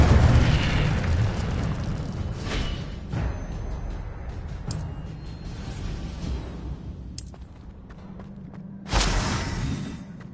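An Incendio fire spell cast in Hogwarts Legacy, heard as a rushing, booming whoosh of flame over a dense roaring background, ending with a brief louder burst near the end.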